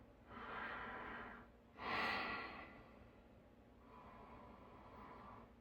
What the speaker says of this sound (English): keep breathing in and out through your nose